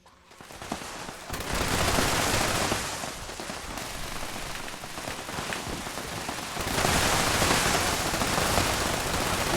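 Sustained machine gun fire in Fallout 76 rattles on as dense, rapid, loud bursts that continue almost without pause, building in intensity toward the end.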